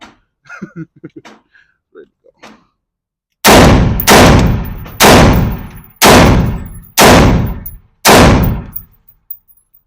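A 20-inch Rock River Arms AR-15 rifle fires six loud, sharp shots at roughly even intervals, each ringing out briefly, after a few quiet clicks and muffled handling noises.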